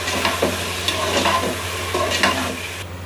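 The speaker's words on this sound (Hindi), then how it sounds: "गोश्त को हम इसमें तकरीबन 10 मिनट तक फ्राई करेंगे और साथ ही हम इसमें ज़ीरा भी डाल देंगे।" Meat frying with cumin in a pan: a steady close sizzle broken by several stirring scrapes of a spoon against the pan, with no voices.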